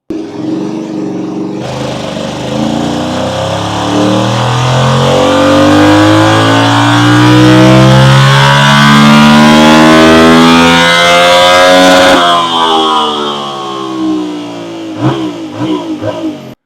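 A Yamaha R7 motorcycle with its stock exhaust and remapped engine revs loudly and close up, climbing in a long sustained rise, holding high, then dropping back through a few short blips.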